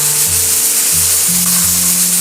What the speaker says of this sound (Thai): หม้อแรงดันก็เริ่มที่จะทำงานละ หมุนติ้ว ติ้วแบบนี้เลยค่ะ